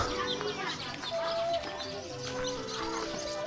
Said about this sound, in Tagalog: Ayan, may manok.